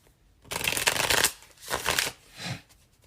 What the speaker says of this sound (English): We are actually using the Field Tarot by Hannah Elizabeth Fofana.